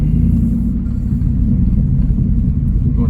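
A scrap hauler truck engine rumbles loud and low, close up and steady, as a kid drives it with the clutch.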